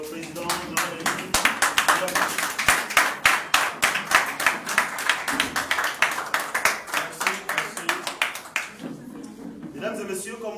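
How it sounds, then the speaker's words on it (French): An audience claps in a strong, steady rhythm for the entrance of president Jean-Rémy Yama at the declaration of his candidacy for the presidential election, with loud unison beats that loosen near the end. "si nous pouvons acclamer l'entrée de notre président Jean-Rémy"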